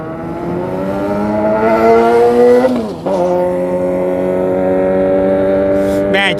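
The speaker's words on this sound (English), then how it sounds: "just hearing that motorcycle right now" A motorcycle revs loudly nearby at an airport, its engine note climbing steadily, dipping briefly, then rising again in a strong sustained drone.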